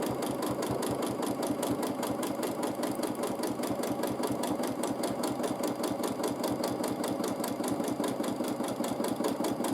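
A sewing machine quilts with dark thread, running steadily and loudly at an even, rapid stitching rhythm throughout, with no voices over it.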